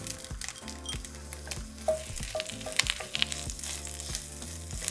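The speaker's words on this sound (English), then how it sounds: "We're going to saute for 2 minutes." Chopped onion sautés in melted butter in a skillet over medium heat, a soft steady sizzle and crackle heard close up, with light stirring and music playing underneath.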